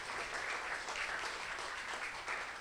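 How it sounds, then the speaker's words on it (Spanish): A church congregation applauds in steady, dense clapping at moderate loudness with no voices on top. "Dale un aplauso a estas hermosas princesas."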